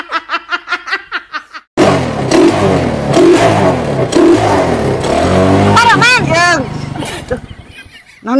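A motorcycle engine revs loudly through its exhaust in quick bursts, mixed with laughter and animated talk close by.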